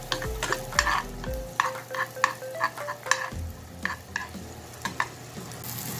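Garlic and tuna sisig stirred in a frying pan, a steady sizzle broken by frequent rhythmic scrapes and taps of the spatula against the pan, close and clear, without speech.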